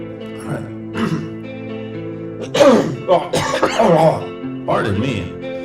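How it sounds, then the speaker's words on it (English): A man coughs and clears his throat several times in short, harsh bursts, close up, over a sustained guitar tone ringing underneath. "I'm getting a little cough."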